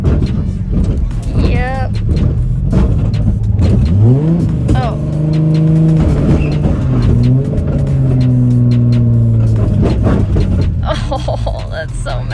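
A broken-down car on the road, its engine struggling and revving unevenly in rising and falling surges, close and loud, while people talk and exclaim over it.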